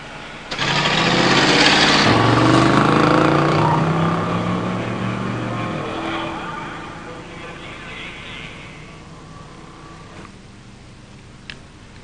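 A 1968 Torino with a 289 automatic and a 1987 Grand National launch in a drag race, a loud engine roar rising in pitch through the gears, then fading into the distance, with commentary under it.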